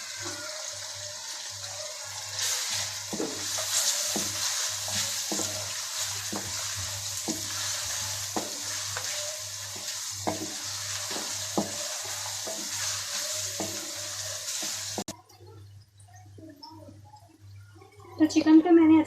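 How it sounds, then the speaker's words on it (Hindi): Chicken sizzles as it fries in oil with garlic ginger paste, with a steady crackle and repeated stirring scrapes for about fifteen seconds, then the sizzle drops away to near quiet. "इसको भी अच्छे तरीके से तेल में फ्राई कर लें।"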